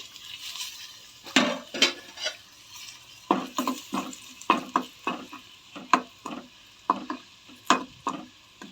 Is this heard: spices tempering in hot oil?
yes